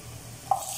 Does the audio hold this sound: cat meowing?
no